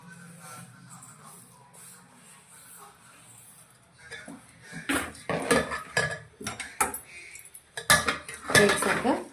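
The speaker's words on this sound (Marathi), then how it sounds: "एकसारखं हलवून घ्यायचं" Roasted coconut and sesame seeds are stirred in a pan while making tambit laddu, with a quiet start and then clustered scraping and clinking of a spoon against the metal pan, close and irregular.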